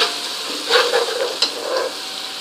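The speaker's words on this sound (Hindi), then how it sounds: "जीरा डालने के बाद इसको 2 मिनट जीरे को भी हमने फ्राई करना है इसी तरह" Cumin seeds frying in a pan for chana dal gosht, a soft close sizzle with a few brief crackling bursts and light stirring, fairly quiet, lasting a couple of seconds without voices.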